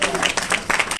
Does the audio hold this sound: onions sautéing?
no